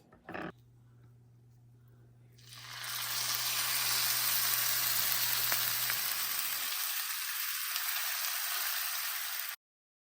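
Salisbury steak patties dropped into hot oil in a large cast iron skillet, bursting into a loud, steady crackling sizzle that holds for several seconds before cutting off abruptly.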